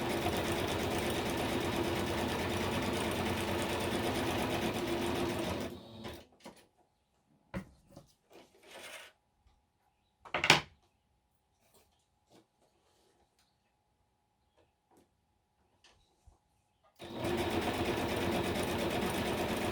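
A sewing machine zigzag-stitches through packaging material for a junk-journal pin pocket. Loud, steady, whirring runs of stitching open and close the passage, separated by a long quiet stretch with soft handling clicks and one sharp knock.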